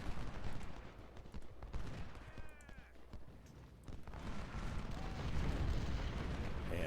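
Cannon fire in the Civil War strategy game Ultimate General: Civil War during a battle at Second Bull Run, a rolling barrage of deep booms and rumbling volleys, dense and continuous, swelling louder toward the end.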